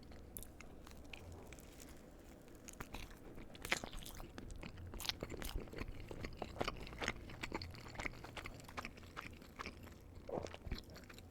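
Soft, close chewing and biting on a Subway pepperoni pizza sub, with quiet crunches and moist mouth sounds repeating steadily throughout, no talking.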